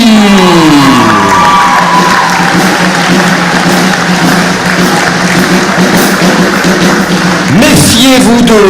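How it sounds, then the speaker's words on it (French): A crowd at a school improvisational theatre festival applauds and cheers loudly and continuously for a middle-school improv team. Voices shout over the dense clapping, which swells again near the end. "Nous applaudissons le collège Samuel Lévy."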